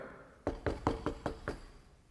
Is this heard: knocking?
yes